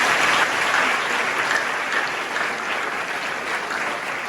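An audience at a career event in Ghana applauds: dense, sustained clapping from many hands that holds steady for several seconds and tapers slightly toward the end.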